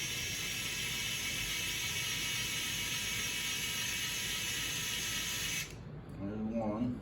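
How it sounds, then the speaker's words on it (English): A small electric screwdriver whirs steadily at close range, driving screws into side marker trim on a 1997 Honda GL1500 Goldwing motorcycle, then cuts off abruptly near the end. "I got this little electric screwdriver, makes it a little easy to put these in"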